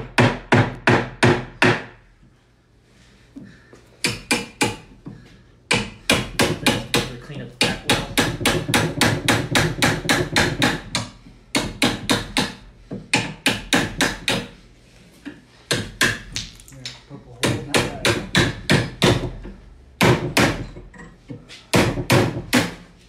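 A chisel is hammered to pry off a wood bathroom vanity, making loud, close, rapid metallic strikes in bursts of quick repeated blows with short pauses between them.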